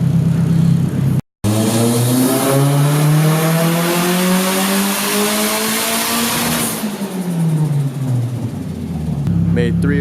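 Nissan 240sx with an SR20 engine at 10 psi boost revving hard on a dyno pull, the turbocharged four-cylinder climbing steadily in pitch for several seconds, then falling off as the throttle lifts, loud and close.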